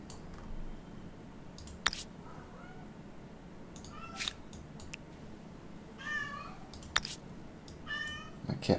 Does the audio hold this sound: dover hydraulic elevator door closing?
no